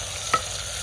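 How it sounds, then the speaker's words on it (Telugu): Fenugreek leaves frying in hot oil for a village-style fish curry give a brief, close sizzle with a small stirring clack midway, all within under a second. "కొద్దిగా మెంతాకు, ఇది కూడా ఆయిల్లో వేయించాలి."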